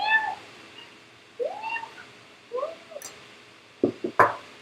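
Pet cats meow repeatedly indoors, with several rising, drawn-out calls spaced apart at close range, followed by a few short clattering knocks.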